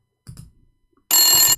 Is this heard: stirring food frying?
no